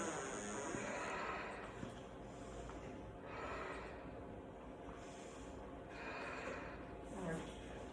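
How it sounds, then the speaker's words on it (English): Slow, rhythmic breaths taken while holding a yoga pose repeat in soft, airy waves about every two seconds, close and quiet, with faint talking now and then. "And we're going to breathe."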